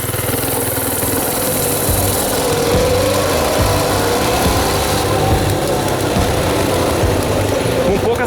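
A small carburetted motorcycle engine built as a mid-size bike runs loud and close, blipping the throttle in a few rough, pressured revs with no talking.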